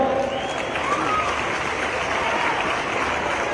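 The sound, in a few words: crowd applauding at a rally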